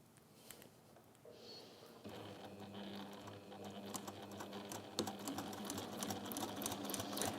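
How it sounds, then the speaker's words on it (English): A sewing machine runs steadily while top stitching around a fabric pouch, its rapid mechanical rattle starting quietly and then becoming continuous and close. "I would just top stitch around"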